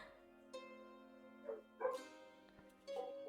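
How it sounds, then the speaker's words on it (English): A neighbour's dog barks in a few short, quiet yips and woofs, spaced out and heard from a distance over steady soft background music. "there goes my neighbor's dog"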